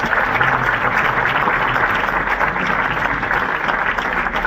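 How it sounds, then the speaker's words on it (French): An audience at a frequencies fair in St Julien applauds a doctor praised as a great man, a dense, loud and continuous wall of clapping with no pauses. "J'aimerais qu'on l'applaudisse, parce que c'est un grand monsieur"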